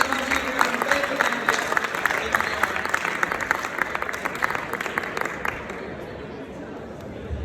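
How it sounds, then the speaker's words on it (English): Audience applause at a fintech startup award ceremony honouring female founders, dense and steady clapping from a sizable crowd that gradually thins and fades, with murmuring voices underneath. "Give her a big round of applause to all female founders"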